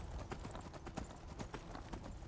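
Horse hooves clip-clop in the video game Skyrim, a quick, uneven run of close hoofbeats on hard ground over low background ambience.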